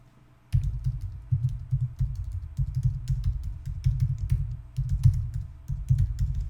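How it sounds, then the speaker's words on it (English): Someone types an email address on a computer keyboard, with quick, irregular bursts of close key clicks and clatter starting after a brief quiet moment and continuing throughout. "I'll even type it in here for you."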